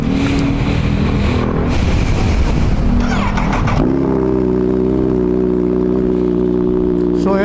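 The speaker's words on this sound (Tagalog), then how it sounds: "Ito yung tunog ng SC Project dito sa CH2." A Kawasaki Z H2 motorcycle with an SC Project exhaust is revved hard nearby, a loud, raspy, bassy roar that swells in bursts and then settles into a steady high, even engine drone.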